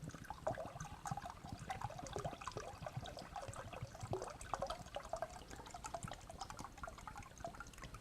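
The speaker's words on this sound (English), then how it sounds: "So I'm going to pour the resin in now." Resin poured into a wooden bowl, a steady soft trickle of liquid running continuously and close by, with faint drips and no talking.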